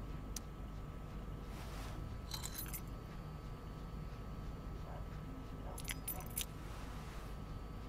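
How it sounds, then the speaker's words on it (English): Keys jangling in Life Is Strange: Before The Storm, heard as two short metallic jingling bursts, one early and one later, over a faint steady background hum, with no talking. "Go give David his keys."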